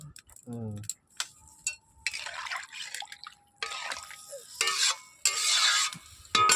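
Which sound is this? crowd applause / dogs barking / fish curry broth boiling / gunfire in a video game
fish curry broth boiling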